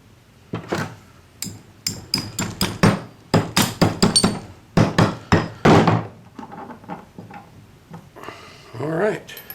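Metal being tapped out for a homemade camping pipe burner gives a run of sharp, close, ringing knocks in irregular bursts, some quick and clustered, others spaced apart, ending with a brief scraping rattle.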